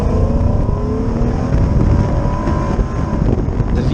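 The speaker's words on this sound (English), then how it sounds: "this beautiful, loud V6, just there behind you, it all gets very alive" A mid-engine V6 with VTEC, mounted just behind the cabin, revs hard under acceleration, its loud engine note climbing steadily through the gears over heavy wind rush.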